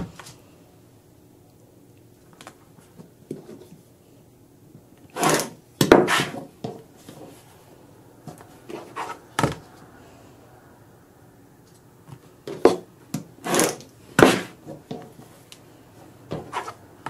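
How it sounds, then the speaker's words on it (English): Quilt block fabric being trimmed with a Trimmer by George ruler, heard as sharp scraping cuts and rubs in two clusters separated by quiet pauses, close by with no talking. "here we're going to trim this 1/4 inch from the basting stitch on all 4 of these sides"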